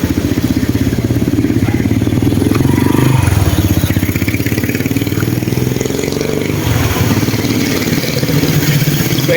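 A motorcycle engine idles at a COMELEC election checkpoint in Baler: a steady, loud, close mechanical putter with a slight clatter, running without pause and with no clear speech.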